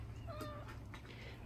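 A pet cat named Cheese gives a short, close meow outdoors on a wet, cold day, one clear drawn-out call over a low steady background hum.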